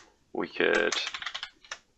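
Rapid clicks on a computer keyboard come in a quick burst of keystrokes, close and fairly loud, with a person speaking briefly over them.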